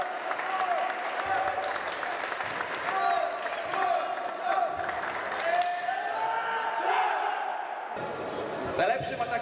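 Applause from a crowd at a volleyball tournament, a memorial event, clapping steadily and fairly loud for about nine seconds, with voices calling out and talking over it.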